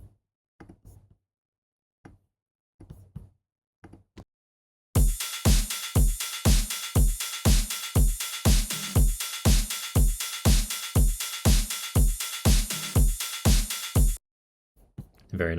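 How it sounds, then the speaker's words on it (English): A combined drum loop of ride cymbal, hi-hat and snare for a dark cyberpunk track plays as a loud, steady, evenly spaced beat, preceded by a few faint sparse hits. "And like all of those drums together sound like this."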